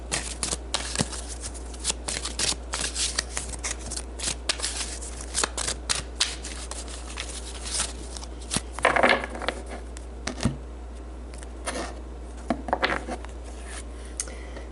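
Advice cards shuffled for a reading give repeated close riffling snaps and papery flicks in uneven bursts, with no talking.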